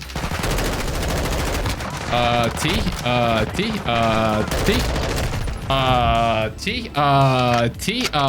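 M4 rifle with a red dot sight firing in a Call of Duty game, rapid automatic bursts in several volleys over game music and effects, with someone talking in between.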